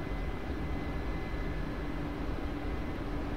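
A helicopter flying in the DCS flight simulator during an oilfield campaign: a constant broadband engine and rotor roar, even and unbroken throughout, with no speech over it.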